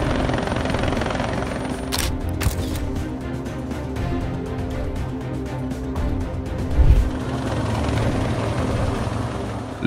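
A rescue helicopter called in by firefighters to airlift an injured horse to a vet thuds steadily with rapid rotor chop, sustained and fairly close, with a brief low bump partway through.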